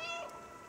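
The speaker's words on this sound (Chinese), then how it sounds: "喵喵叫应该是可以吸引我们的同伴过来吧" A short, soft cat meow from the video game Stray, a single faint call heard briefly on its own.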